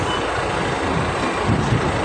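On a Singapore street, a large bus or truck rumbles close by with a steady engine drone, while a reversing beep sounds faintly within the constant traffic noise.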